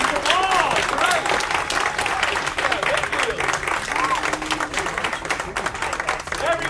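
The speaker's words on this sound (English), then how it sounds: "Round of applause for them all." Audience applause at a magic theatre ensemble show, steady clapping of a crowd sustained throughout with voices and cheering mixed in.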